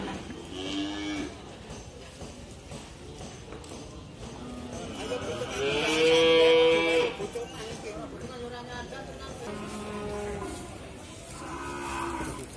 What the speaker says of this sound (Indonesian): di depan saya ini ada sapi PO, kemudian pedetan juga ada